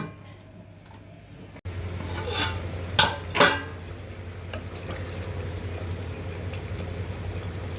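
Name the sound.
stirring meat curry cooking in a pot for biryani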